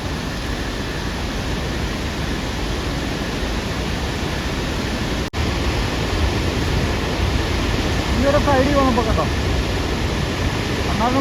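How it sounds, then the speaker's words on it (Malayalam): Floodwater gushes from open dam shutters and gates in rain-swollen Idukki, a constant broadband roar of rushing water with people talking over it toward the end. "അവിടുന്നൊക്കെ തെറിക്കുന്ന വെള്ളത്തിൻ്റെ ഒരു പവറും ഉണ്ടോ"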